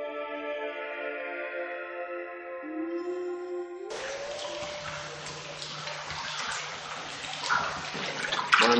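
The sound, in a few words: underground river flowing in the Gouffre de Padirac cave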